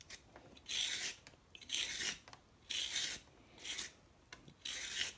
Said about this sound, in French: Donc nous allons commencer par les carottes, par les éplucher